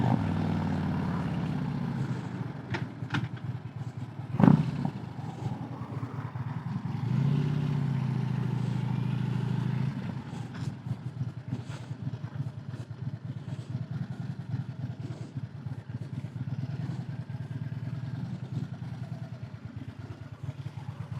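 A motorcycle idles steadily at a drive-up window, its low rumble continuous and close, with a sharp knock early on and a slight rise in engine sound shortly after.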